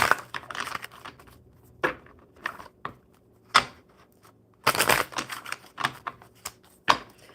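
Crisp bursts of rapid flapping and riffling, several quick shuffles separated by short pauses, close by with no talking.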